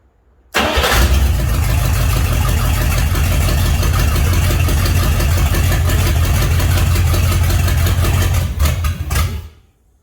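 A Buick Electra 225 with a 455 V8 idles steadily with a carburetor fuel leak, a loud, continuous close-up engine rumble that starts abruptly and runs for about nine seconds before cutting off, with no talking.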